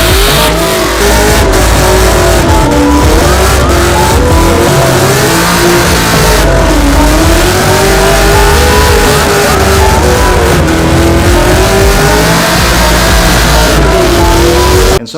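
A 2003 Ford Mustang Terminator Cobra engine revs hard and continuously during a burnout, loud and close, its pitch rising and falling in waves over the sustained roar.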